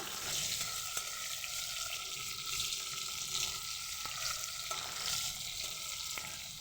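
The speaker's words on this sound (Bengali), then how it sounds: "চিংড়ি মাছ তাড়াতাড়ি ভাজা হয়ে যায়" Shrimp fry in hot oil in a pan with a steady, close hiss and crackle, a few sharp pops breaking through the sizzle.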